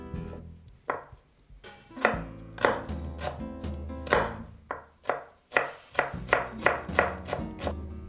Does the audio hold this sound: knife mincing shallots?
yes